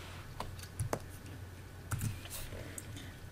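Keys tapped in short scattered clicks while entering numbers into a calculator or keyboard to work a statistics problem, quiet and close, with a faint low hum underneath and no talking.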